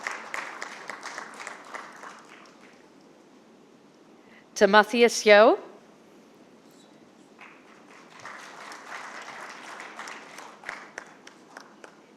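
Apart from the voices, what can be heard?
audience applause for panel speakers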